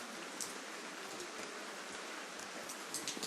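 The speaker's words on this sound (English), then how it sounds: "you can probably hear the drip, drip, drip, drip of the torrential downpour behind us" Torrential rain falls steadily in Biarritz, France, in a dense hiss, with scattered louder drips and splashes standing out now and then.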